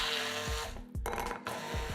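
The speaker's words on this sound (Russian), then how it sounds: "Все взбиваем погруженным блендером до однородной массы." An immersion blender whips canned tuna with 30 grams of room-temperature butter into a smooth mass, a loud, steady whir with rhythmic dips in pitch as the blade churns through the mixture.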